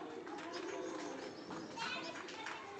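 Madrasi breed pigeons, a breeding pair, coo softly in the background under someone talking, with some shuffling and steady room noise throughout.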